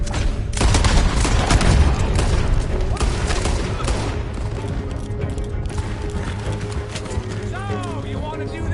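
Heavy gunfire in a Red Dead Redemption 2 shootout during a stagecoach robbery, dense overlapping shots and booms rolling continuously through the whole stretch, with shouting voices mixed in.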